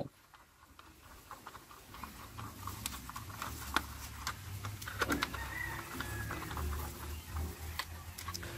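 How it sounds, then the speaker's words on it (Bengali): A screwdriver tightens screws on a small toy vehicle, producing quiet, irregular ticking and clicking up close, with light handling rustle throughout. "আমাদের যে স্ক্রু ড্রাইভারটা রয়েছে এটাকে দিয়ে আমরা টাইট করে ফেলবো"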